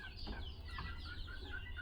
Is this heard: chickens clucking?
yes